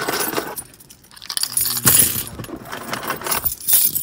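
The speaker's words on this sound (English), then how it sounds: "Oh, here are my keys." A bunch of keys jangles and clinks loudly at close range as it is handed over, with a few sharp metallic rattles and shakes over a couple of seconds.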